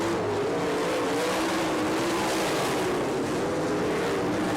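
Sprint cars race on a dirt oval in an All Stars versus NCRA event at Haubstadt, Indiana. A loud, continuous engine roar holds a wavering high pitch throughout, with no voices heard.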